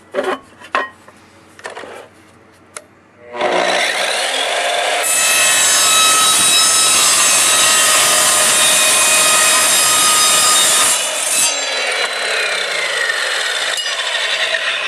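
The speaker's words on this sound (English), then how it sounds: "Now what we have is a hollow piece of aluminum tubing. And we're going to cut a few slices of that." An Evolution Rage3 sliding miter saw spins up and slices through hollow aluminum tubing, a loud harsh grinding screech that holds steady for several seconds after a few clicks and taps before the motor starts.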